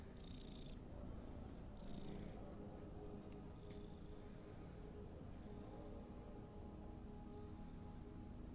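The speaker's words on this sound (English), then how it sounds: "It's a big honking kitty." A large cat in World of Warcraft Shadowlands purrs in a steady, continuous low rumble, fairly quiet, with a few faint high chimes from the game over it.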